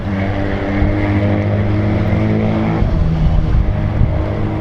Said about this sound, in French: C'est des motos qui passent.